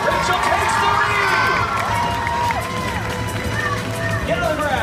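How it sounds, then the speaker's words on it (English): A loud, continuous crowd cheers and shouts at a live Fear Factor stunt show in Orlando, Florida, as contestants race through an obstacle course, with excited voices and an announcer's commentary layered over the steady roar. "Audience, let's cheer them on!"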